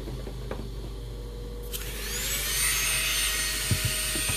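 A dental handpiece grinds an immediate denture, kicking in after a quiet moment as a steady, close, high-pitched whirring whine with a few faint clicks.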